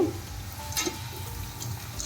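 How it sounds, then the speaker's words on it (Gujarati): Potato chips deep-fry in hot oil over full flame, a soft continuous crackle and bubbling with no voices. "આમ જ આપણે આને 5 મિનિટ માટે ફૂલ ગેસ ઉપર જ આપણે તળવાની છે"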